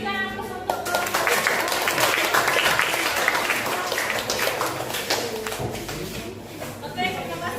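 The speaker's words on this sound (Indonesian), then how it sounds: "Berikan aplaus untuk kelompok." Classroom audience applauding a student presentation group, a dense burst of many hands clapping that swells and then thins out, with a teacher's voice speaking around it.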